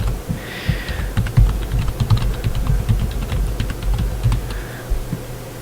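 Username being typed on a computer keyboard during an online form login, with steady, close, fairly loud key clicks in quick irregular bursts and no talking.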